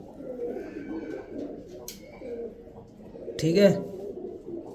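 Pigeons coo softly in repeated low, throaty bursts nearby, while someone speaks over and between the calls.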